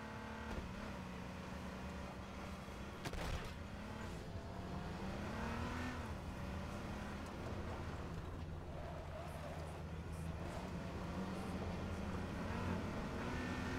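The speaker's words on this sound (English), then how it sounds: "Did I hear a car?" Car engine in the video game H1Z1, a steady droning motor with shifting pitch that runs continuously at moderate loudness, a brief sharp knock near the three-second mark and faint voice traces underneath.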